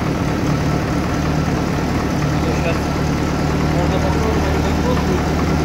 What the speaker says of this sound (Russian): Блин, как хорошо работает мотор,